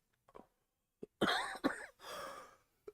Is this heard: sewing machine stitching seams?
no